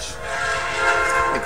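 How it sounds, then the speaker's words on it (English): A train passes on tracks close to a house, a steady loud rumble with tonal horn-like drones that fill the whole short stretch. "Yeah, I live by train tracks."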